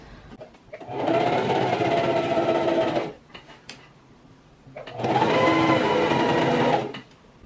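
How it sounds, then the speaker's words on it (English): A sewing machine stitches the side seams of a skirt in two steady bursts of about two seconds each, with a quiet pause between them, close and clearly audible. "We're going to take this over to our sewing machine and we're going to do a stitch"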